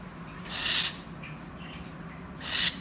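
A captive owl gives two short, raspy screeches about two seconds apart, close and fairly loud over a quiet indoor background.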